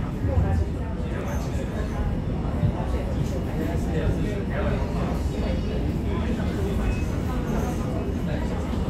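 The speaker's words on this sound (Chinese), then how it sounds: "我们的当当一组彩绘区间车在我们的潮州火车站停靠" An EMU500 four-car electric multiple unit train in a painted livery stopping at Chaozhou station, heard as a steady rumble and hum of rolling stock throughout, fairly close, with no clear pauses.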